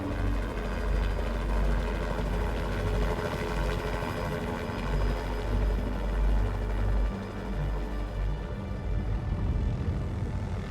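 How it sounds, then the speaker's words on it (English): A helicopter flies overhead during an at-sea aerial rescue after a yacht sank in a storm. It makes a loud, steady rotor and engine roar with a heavy low thump that holds throughout, with no voices. "All of a sudden I hear this helicopter flying overhead"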